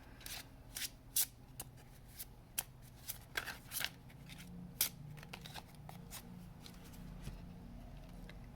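A deck of playing cards being shuffled, with a string of crisp riffling bursts and snaps spread irregularly over several seconds, close and fairly quiet, no voices.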